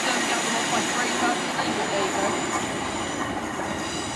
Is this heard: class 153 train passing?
yes